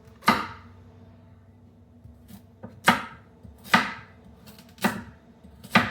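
Frozen carrots are chopped with a knife on a board, five or six sharp, separate thuds spaced irregularly with quiet pauses between, close and fairly loud with no talk.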